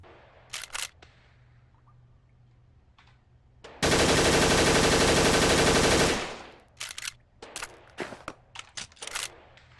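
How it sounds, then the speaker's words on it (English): An MP5 submachine gun fires a sustained burst of rapid automatic shots, about two seconds long, in the VR shooting game Gun Club. Scattered clicks and handling sounds come before and after the burst. "although it doesn't sound the greatest, I love this MP5."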